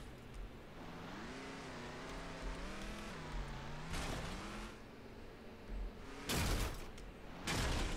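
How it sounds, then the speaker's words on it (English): Pickup truck engine in the video game Ranch Simulator, a steady droning hum whose pitch rises and falls as it labours up a hill, with a few louder bumps and clunks near the end. "Can I get up that hill in the pickup truck?"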